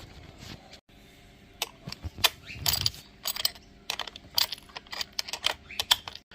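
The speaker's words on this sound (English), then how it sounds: "Put a bit of Loctite on and do up the nuts." Nuts being done up on a Losi 5ive-T 2.0 RC race truck during a build, giving quick close clicks and small metallic ticks in irregular bursts, with light handling noise between them.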